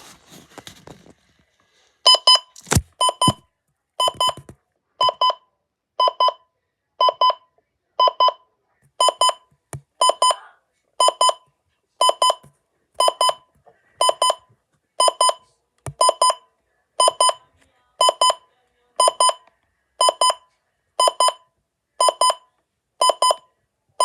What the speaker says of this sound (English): So, this is the tone you'll expect to hear when it goes off.